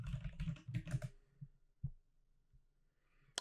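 Computer keyboard keys tapped while a password is entered during a Linux software install, a quick cluster of clicks followed by a few sparse, isolated keystrokes, close and fairly quiet.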